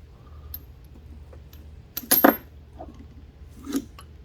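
Valve spring keepers on an Oldsmobile 442 with an LS engine swap are knocked loose with a socket and drop out, giving a couple of small, close metallic clinks and rattles in a quiet workshop.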